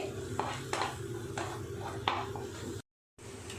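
A spoon scrapes and stirs through a curry in a pan as turmeric and coriander powder are worked in, with soft rhythmic scraping strokes about every half second, then a brief silence.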